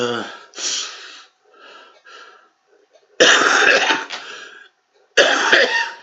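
A man who is a heavy smoker coughs repeatedly up close, in harsh bursts separated by brief pauses and gasping breaths.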